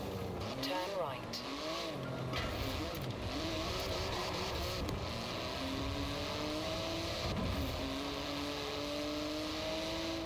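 Porsche 911 GT2 RS from Forza Horizon 4 roaring through a drive, its engine note rising and falling through gear changes, with voices talking over the steady engine noise.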